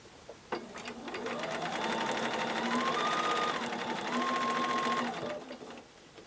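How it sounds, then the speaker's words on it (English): A sewing machine runs steadily for about five seconds while stitching a quilt block seam for a Friendship Star block, with a whirring motor and a rapid needle rhythm that starts up, holds, then winds down. No one speaks. "I can nest them right together and feel where those two seams come together"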